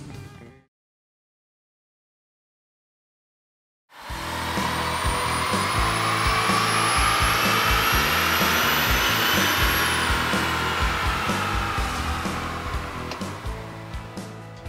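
A Duramax diesel in a GMC Denali on a chassis dyno, turbo spooling up: loud, steady broadband engine roar with a rising turbo whistle. It starts abruptly after a short silence, holds for about ten seconds, then eases slightly.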